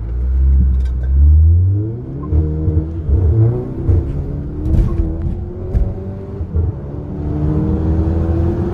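An Audi A3 tuned to 280 hp with a DSG gearbox accelerates hard, its engine note climbing through rising revs with a brief shift break, loud and close from inside the car.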